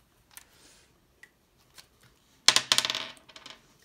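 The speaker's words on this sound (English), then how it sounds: "So Carson's going to get the dice." Dice rolled for a savings-challenge board game: a few faint clicks, then a loud clattering burst of small objects tumbling and settling on a hard surface, fading over about a second, with no talk.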